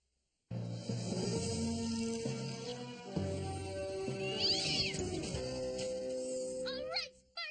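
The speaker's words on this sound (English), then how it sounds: "Love that cat!" A cartoon cat meows repeatedly in drawn-out, wavering cries, near and prominent, over a musical score, with a short rising squeal near the end.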